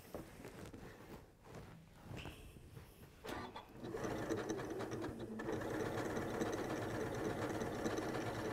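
A computerized sewing machine stitches a programmed sequence with tapering, its motor whirring faintly at first and then running steadily louder for the last several seconds, with no talk.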